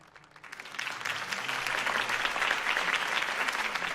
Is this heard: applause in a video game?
yes